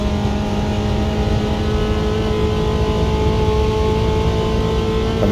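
A little Chevy inline four-cylinder engine revs steadily and loudly up close, a sustained droning hum with no breaks and no voices over it.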